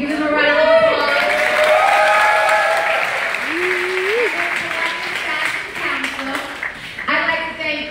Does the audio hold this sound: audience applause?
yes